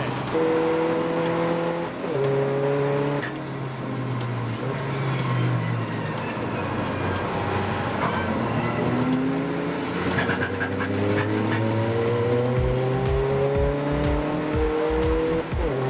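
Race cars, including an Audi TT TDI, compete at Anglesey, engines loud and continuous with rising and falling pitch as cars accelerate and pass close by, a sustained busy roar throughout.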